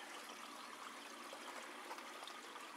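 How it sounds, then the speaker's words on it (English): Water streams steadily from newly plumbed pipes into an aquaponics reservoir fed by timer-controlled grow beds, a faint continuous trickle and hiss with no voices. "And we now have water coming into the reservoir, just like it's supposed to."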